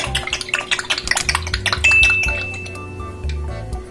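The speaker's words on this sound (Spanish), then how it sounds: "ponemos un sartén y le vamos a poner aceite, el suficiente para poder freír nuestras milanesas" A frying pan set out for frying beef milanesas knocks and clinks against metal and glass in a home kitchen, with a quick string of sharp clatters followed by a sustained ringing tone.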